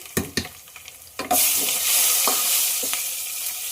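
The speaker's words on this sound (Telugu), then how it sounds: "ఎండుమిర్చి కొంచెం చిన్నగా తుంపేసి వేసేసుకుందాం. ఒకసారి కలిపేసి" Dry red chillies and curry leaves frying in hot oil in a pan as they are stirred for a Rayalaseema-style cowpea dal, with a few sharp spoon scrapes before a loud steady sizzle rises and holds.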